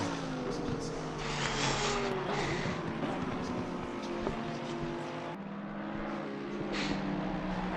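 Porsche race car engine in a PS4 racing game at Suzuka, a steady loud drone with shifting pitch and occasional passing cars, continuous throughout without speech.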